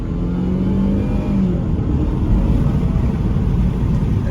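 A 2012 Chevy Malibu accelerating at full throttle from 20 mph, a loud, close, steady engine drone with deep rumble that builds smoothly and continuously, accompanied by road and wind noise.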